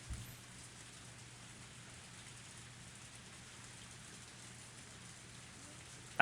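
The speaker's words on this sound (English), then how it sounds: "I felt the raindrops hit my face." Steady rain falls in a quiet outdoor scene from the Higurashi visual novel, a soft, even hiss of drops that goes on unbroken, faint and distant with no talking.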